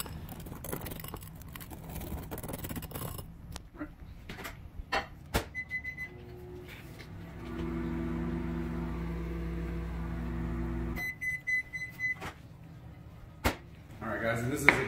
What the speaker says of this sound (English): Probably only gonna have to go back in the microwave one more time.